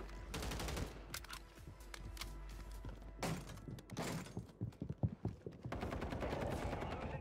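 Rapid bursts of automatic gunfire from a video game battle on Rebirth Island, with sustained trigger-held volleys, scattered single shots and impacts, loud and dense throughout the clip.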